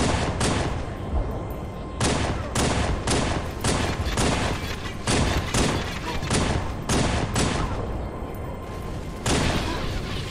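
Rapid, loud gunfire in Halo 3 on a legendary solo run, sustained volleys of close shots repeating steadily with brief gaps, dense and continuous throughout.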